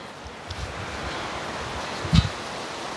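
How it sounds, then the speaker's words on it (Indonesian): Strong wind gusts through tall trees beside a fruit orchard, a steady broadband whooshing rush that holds throughout with one brief louder buffet near the end. "Jadi kalau ada angin kencang, teman-teman, suaranya kayak yang wus-wus gitu."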